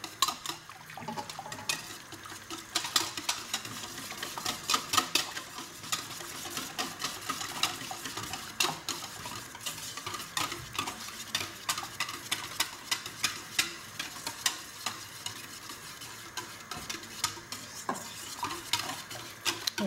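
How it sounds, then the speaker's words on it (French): A whisk beats a talbina mixture in a bowl to break up lumps, producing fast, steady rhythmic clicking and scraping strokes that continue close up without pause. "le but ici c'est vraiment de mixer, enfin de mélanger jusqu'à ce qu'il n'y ait pas plus de grumeaux"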